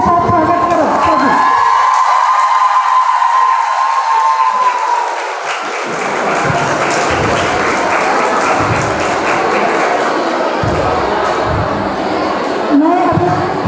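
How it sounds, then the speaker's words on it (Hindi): A crowd at a nursing college event applauds loudly to welcome a guest, sustained clapping mixed with cheers and whoops that carries on throughout. "तालियों के साथ स्वागत करो सभी।"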